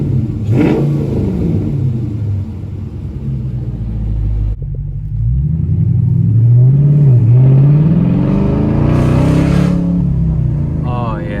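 A car engine fitted with a Flowmaster Outlaw catback exhaust rumbles loudly up close, blipping and then revving up into a deep, rising roar, with a voice speaking over it.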